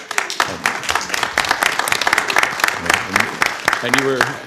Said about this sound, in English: So give Linda a round of applause for that.